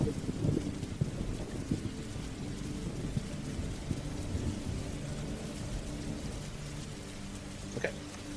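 Steady rain falling with rolling thunder rumbling underneath, a continuous dense downpour with low booms and a sharper crack near the end, no voices.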